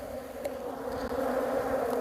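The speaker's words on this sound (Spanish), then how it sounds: "Más o menos las abejas están por aquí" Honey bees buzz near a hive during varroa mite treatment, making a continuous dense drone that holds steady at close range, with no voices.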